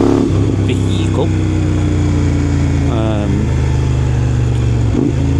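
Kove 800 X Pro motorcycle engine running at a steady close idle, loud and continuous, with a person talking over it.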